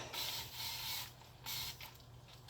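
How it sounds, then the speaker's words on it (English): Several short hissing bursts of an aerosol spray can, close by, separated by brief pauses. "One final spray."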